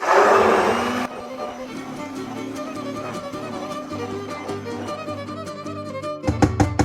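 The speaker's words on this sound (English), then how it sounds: "So that's it for the immersion blender." A handheld immersion blender purees butternut squash soup, a steady motor whir churning through the thick mixture for several seconds, with a louder burst at the start and a few pulsing bursts near the end.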